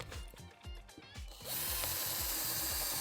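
A power drill whirs in short ratcheting bursts, then runs steadily and loudly, boring pilot holes for screws into scrap wood for a DIY garden bench.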